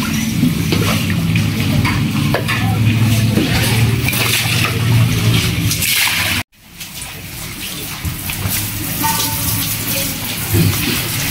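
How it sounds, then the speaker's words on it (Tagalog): Muddy floodwater is bailed out of a flooded house in loud, splashy bursts of scooping and pouring that break off sharply, then resume more quietly. "Ulit kami sa paglilimas."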